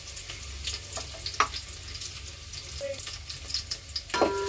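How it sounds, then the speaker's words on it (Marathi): Garlic cloves fry in a hot pan, giving a steady soft sizzle with a few scraping stir sounds and light clicks, moderately close and with no talking. "त्याच्यानंतर दहा ते बारा लसणाच्या पाकळ्या त्याही घालूया आपण"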